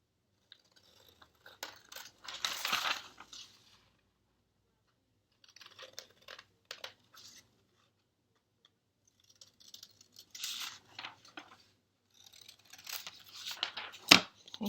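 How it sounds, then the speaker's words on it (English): Scissors cut a paper palm branch shape out of a torn-off page in bursts of crisp snipping and crinkling, with pauses between passes and a sharper snip near the end. "we are going to cut the palm branch out"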